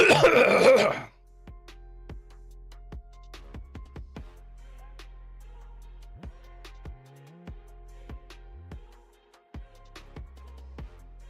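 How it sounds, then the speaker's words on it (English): A single burst of coughing or throat clearing at the start, followed by quiet scattered clicks and light handling noises. "That was a good cough right there."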